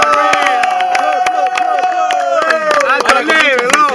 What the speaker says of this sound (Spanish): Un aplauso para los finalistas.